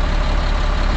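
Caterpillar 3126E diesel engine idling close up while warming, a loud steady low rumble with a regular firing pulse and a slight skip in the rhythm.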